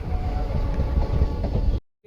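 A train leaving Gondal railway station rumbles loudly and steadily with a rolling clatter close by, then cuts off abruptly near the end.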